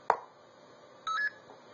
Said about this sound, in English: that low to high beep indicates that we're playing these at the longer duration